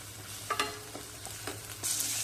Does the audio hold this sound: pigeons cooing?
no